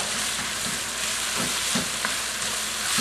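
Fresh red and green chilies with their seeds frying in a pan on medium-high heat for chicken jalfrezi, a loud, steady close-up sizzle with occasional stirring scrapes.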